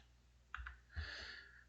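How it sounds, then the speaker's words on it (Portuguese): Two quick clicks of a computer mouse close together at a trading desk, crisp and near, followed by a soft rustle; no one talks. "Deixa eu só dar dois cliques aqui."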